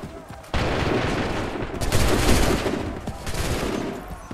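A musket volley in Assassin's Creed 3 breaks out suddenly as loud, dense, crackling gunfire that goes on with scattered overlapping shots, close and heavy, with no talking.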